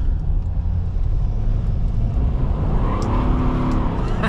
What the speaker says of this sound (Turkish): Turbonun tüm sesi geliyor.